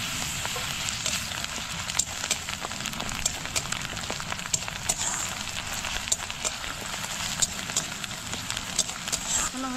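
Garlic paste sizzles and fries steadily in hot oil with spiced rohu fish masala in a pan, a continuous crackling hiss with scattered sharper pops, while a person talks over it.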